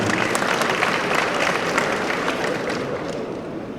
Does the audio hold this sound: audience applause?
yes